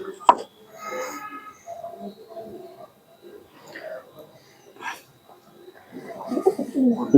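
A fancy pigeon at a loft cooing in soft, low bursts close by, with a sharp tap near the start and other birds and voices murmuring around it.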